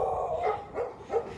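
Several dogs bark and yip in short overlapping bursts outdoors, fairly close, with no talking over them.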